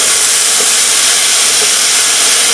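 Steady, loud broadband hiss of cheese sizzling in a hot pan, continuous throughout with no talking.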